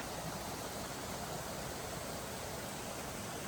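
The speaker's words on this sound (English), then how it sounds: "Beautiful creek." Creek water rushes in a steady, broadband flow near an off-grid property, a continuous even hiss with no rhythm or voices, fairly quiet in level.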